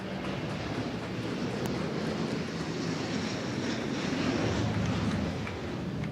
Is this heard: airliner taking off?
yes